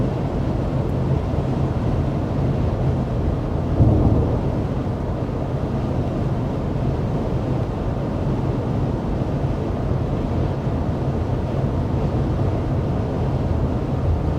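Steady low rumble of road and tire noise inside a 2024 Subaru Crosstrek moving at 55 mph, constant and broadband with no talking.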